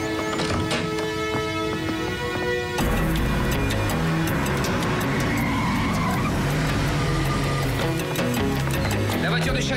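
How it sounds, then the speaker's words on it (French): Car arriving and skidding to a stop in a TV drama scene: an engine surge, then a loud, sustained tire skid with clattering bursts, mixed under music and talk. "La voiture de Sherry Jarvis est là."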